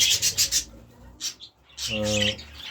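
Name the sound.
young pet birds chirping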